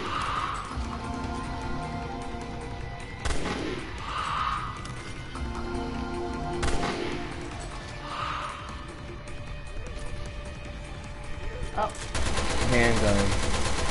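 Machine pistol fire in the Resident Evil Revelations 2 video game, several short rapid bursts of gunfire spaced a few seconds apart over a steady game soundscape, with a louder burst near the end.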